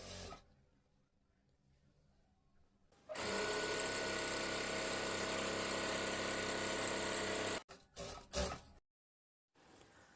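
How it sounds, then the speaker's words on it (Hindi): A Daisen sewing machine stitches through thick fabric folded eight layers deep, like jeans. Its steady, loud whirring run lasts about four seconds after a quiet start, followed by a few short bumps and silence. "थोड़ा सा मोटा करके भी आप दिखा देते हैं कि मोटे में सिलाई कितनी अच्छी चल रही है"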